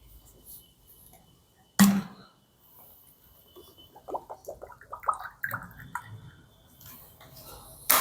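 A teacher pauses during a physics lesson to drink water, with a sharp knock from setting something down, then a run of small wet gulping and swallowing clicks close by, faint background murmurs, and another knock at the end.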